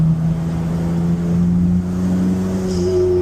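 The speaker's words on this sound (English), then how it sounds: "Let's do third gear, try and see what happens here." A turbo V6 swapped Honda Civic accelerating in third gear, its loud engine drone rising steadily in pitch with a whistling turbo whine, heard from inside the car with no talk.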